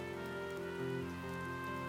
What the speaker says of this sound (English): it had started raining.